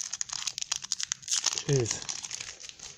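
Crinkly plastic wrapper of a trading card pack being torn and crumpled up close, brisk bursts of crackling with a brief voiced exclamation partway through.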